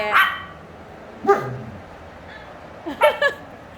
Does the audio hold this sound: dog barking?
yes